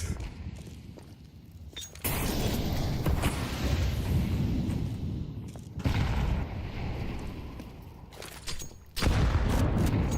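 Grenade explosions in a competitive Counter-Strike match come as loud, rumbling bursts that break off abruptly, with sharp gunfire and footsteps between the blasts.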